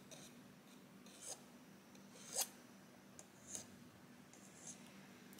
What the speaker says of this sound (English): Let me see if I can scrape this part off.